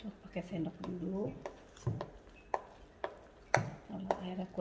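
A spoon scrapes and clacks against a bowl in a steady stirring rhythm, mixing batter for dadar gulung, while a person speaks over it.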